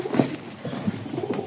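Domestic pigeons in a loft, a few low soft coos close by with faint rustling between them, alone without talk.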